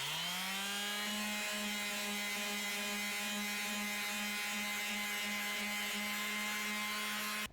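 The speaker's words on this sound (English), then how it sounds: "Okay, it's about time to sand her down." Dried Bondo body filler being sanded on a Corvair, a steady, continuous abrasive rubbing with a sustained tonal hum running unbroken for several seconds, loud and close.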